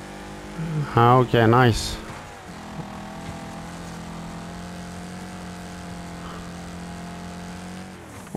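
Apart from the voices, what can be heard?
race car engine at full throttle in video game Wreckfest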